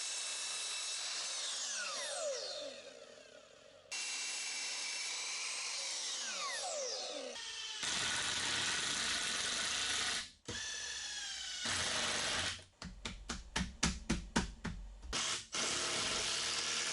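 A power screwdriver drives self-tapping screws into frame studs for a partition wall. Long whining motor runs ramp up as screws bite, followed by a rapid ratcheting clatter of clicks near the end, close and loud.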